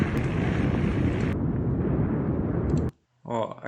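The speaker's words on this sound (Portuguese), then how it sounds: "Um drone filmando o exato momento de explosão do vulcão" A deep, continuous roar of a volcanic eruption recorded by a drone, with heavy wind buffeting the microphone, cuts off abruptly, followed by a brief voice.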